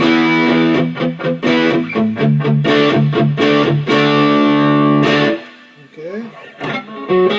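Electric guitar through an MXR Custom Badass '78 Distortion pedal with the gain set to three o'clock, playing loud, thick chords and riffs for about five seconds before a short, quieter bend trails off.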